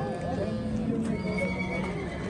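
A horse whinnies at the Uchkun livestock and horse market in Osh, its neigh close and loud across the whole short moment, with crowd noise and talking mixed in.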